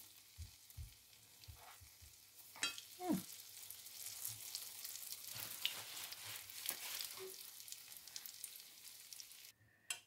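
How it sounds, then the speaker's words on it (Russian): Small Russian-style oladyi pancakes frying in oil in a pan, a steady moderate sizzle throughout with occasional spatters and stirring or turning clatter, no talking. "И обжариваем с другой стороны."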